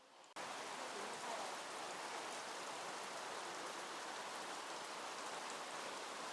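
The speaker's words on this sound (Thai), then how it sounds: "นะฮะฝนตกหนักมาก" Heavy rain pours steadily on a mountaintop temple, heard from inside a restroom, a dense continuous hiss that starts abruptly and holds loud and even throughout.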